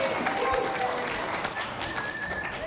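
Audience applause at a marketing industry panel event: a steady wash of clapping from a seated crowd, with voices mixed in underneath.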